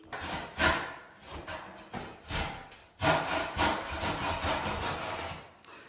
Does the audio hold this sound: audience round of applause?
no